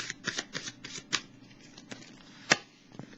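Tarot cards are shuffled and drawn in quick papery riffles and flicks, a cluster of crisp snaps followed by sparser single slides and one sharp slap, close and quiet with no talking.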